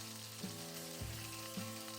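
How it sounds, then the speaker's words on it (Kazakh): Liver fries in a pan over medium heat with a steady sizzle, broken by three clear scrapes or taps of a utensil against the pan. "Бауырды, яғни бәсеңдетілген отта қуырамыз"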